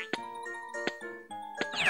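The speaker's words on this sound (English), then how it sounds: "Bell." Bell jingle effect from the VTech V.Smile Mickey Mouse game: three bright tinkling chimes spaced evenly with ringing tones between them, ending in a rising sparkle, clear and close.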